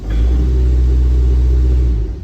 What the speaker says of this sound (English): there's an exhaust leak right up in the front.